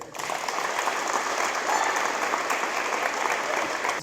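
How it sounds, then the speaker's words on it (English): Audience at a high school college signing ceremony applauding for a student athlete, a dense, steady burst of clapping from a sizeable crowd that holds for about four seconds. "Let's have a big round of applause for Ben Bear."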